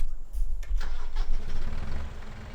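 A tractor engine cranks and catches in Farming Simulator 17, then settles into a steady mid-pitched idle with a slight rev, close and moderately loud.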